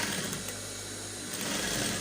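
Sewing machine stitching a waistcoat jacket, a quick, even run of needle rattling that stays fairly close and continuous for a couple of seconds, with no talking.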